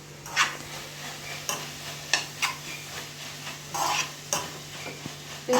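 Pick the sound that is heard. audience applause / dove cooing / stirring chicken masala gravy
stirring chicken masala gravy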